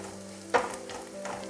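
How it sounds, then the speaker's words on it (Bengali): Onion frying in a pan for a butter garlic mushroom dish, a soft steady sizzle with a single sharp stir or scrape midway, then quieter frying alone. "পেঁয়াজটা 2 মিনিট ভেজে নিলাম, একটু বেশ লাল লাল হয়েছে।"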